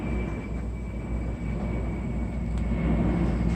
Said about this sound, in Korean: 제가 이렇게 방송하는 와중에 비행기가 오면 비행기 소리가 엄청 크게 들린다는 게